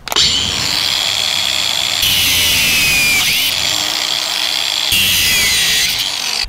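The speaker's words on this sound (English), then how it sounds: "you've got to cut out your bottom line wire" A power tool cuts through the bottom line wire of a gate, giving a loud, steady, high grinding whine that runs continuously, with a few abrupt shifts in pitch and intensity.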